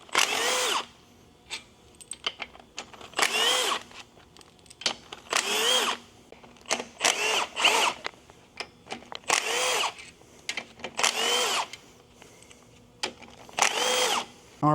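Power tool cracking loose the last few bolts on a failed Honda 2.0L turbo K20A6 engine during teardown; a series of loud, short whirring bursts repeating in irregular rhythm, close up, with quiet gaps between.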